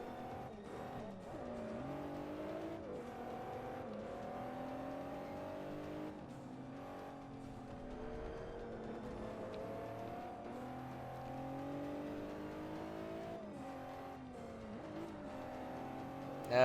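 Cars racing and crashing in a demolition derby in the video game Forza 5, with engines revving and tires squealing continuously and fairly quietly throughout, no voices.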